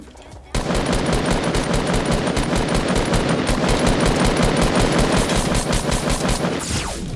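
Loud, rapid automatic gunfire in the video game Fortnite, a sustained rattling burst that starts abruptly after a brief quiet and runs nearly nonstop to the end.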